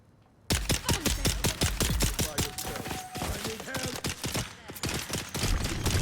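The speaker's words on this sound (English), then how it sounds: "I hear gunfire and I don't know where." Rapid bursts of gunfire in the survival video game Dune: Awakening, a dense run of sharp repeated shots starting abruptly and continuing steadily at close range, with a brief lull near the end.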